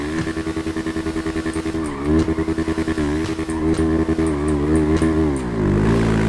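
A motorcycle engine in GTA V, revving and changing pitch with rhythmic pulsing, loud and close, with the engine tone rising and falling continuously throughout.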